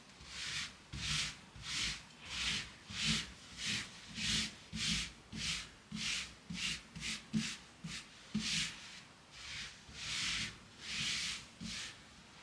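Fabric being gently pushed and smoothed flat on a surface while a quilt top is assembled, a soft rubbing swish repeating in steady strokes about twice a second, close and quiet with no talking.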